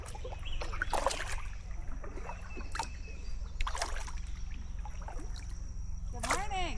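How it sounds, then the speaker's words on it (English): Inflatable touring kayak drifting down a river while the paddle steers, with soft water trickles and paddle splashes under a constant low background rumble, and a few brief clicks and knocks close by. "just use the paddle to keep the kayak straight"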